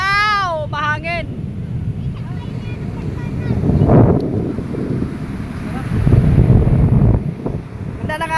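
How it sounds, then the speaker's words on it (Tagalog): Gusty seaside wind by the waves buffets the microphone in steady low rumbles, swelling louder at moments, with a few brief voices and whistles near the start. "Mahangin."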